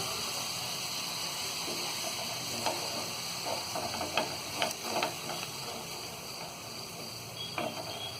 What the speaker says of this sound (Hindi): पानी को करेंगे मिक्स।